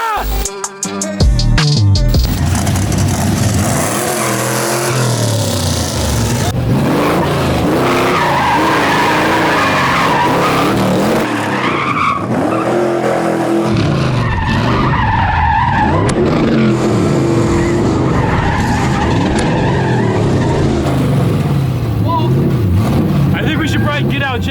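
A 1930 Ford Model A rat rod's engine roars while its tires screech and shred, a loud, continuous squeal and revving growl close by, with voices of people talking and shouting over it.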